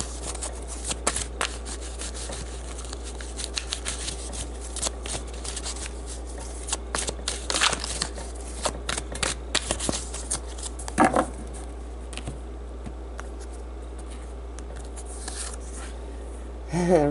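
Tarot cards shuffled by hand in irregular bursts of soft riffling and patting, close and quiet, continuing for a long stretch with brief pauses.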